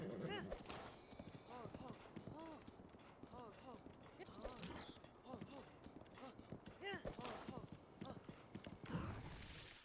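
Horse hooves galloping in Zelda Breath of the Wild, a rapid rhythmic clip-clop running throughout with a player talking faintly over it.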